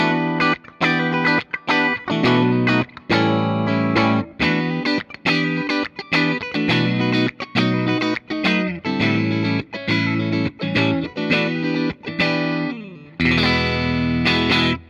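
Electric guitar, a 2025 Fender American Professional II Sandblasted on the middle pickup position, with a clean-leaning, slightly driven tone strums rhythmic, repeated chord stabs with short gaps, ending on a sustained ringing chord.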